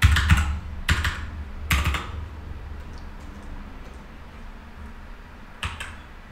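Keys on a computer keyboard are tapped in a few short bursts of clicks, close and crisp, separated by quiet pauses, with a last small burst near the end while a notebook name is entered.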